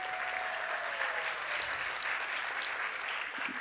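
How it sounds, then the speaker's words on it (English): Steady, full audience applause at a senior variety show, a dense even wash of clapping that holds for the whole few seconds with no voices. "but round of applause for Kelly."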